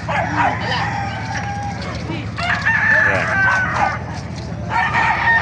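Gamecocks crow loudly and repeatedly nearby, with clucking around them and someone speaking briefly over the birds.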